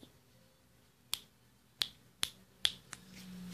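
Five sharp finger snaps ring out close to the mic in an uneven rhythm over about two seconds, each a crisp isolated click, followed by a rising low background noise.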